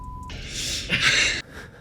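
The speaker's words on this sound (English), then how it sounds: "I wonder with that beep, that's got to be the range of motion." A short electronic beep from a range-of-motion tracker on gym equipment during a heavy strength workout, a steady tone lasting a fraction of a second at the start, followed by broadband gym noise and breathy sounds.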